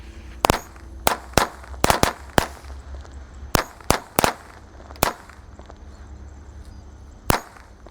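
One pack of matchstick firecrackers (mercon korek) goes off nearby: about a dozen sharp, loud cracks burst in an irregular cluster, some in quick doubles, then spread out and end with a last isolated bang after a pause.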